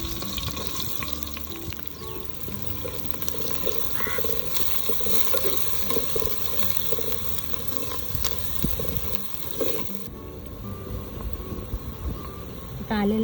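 Onion and curry leaves hitting hot oil in a frying pan while cooking a traditional Agri-style green pea, brinjal and potato curry, a steady crackling sizzle with stirring scrapes, fairly loud and continuous.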